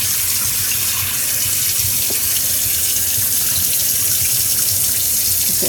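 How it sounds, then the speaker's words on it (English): A kitchen tap runs into a sink while raw chicken is washed and drained for frying, a loud, close, continuous rush of water with no break and no talking. "And then drain the water off."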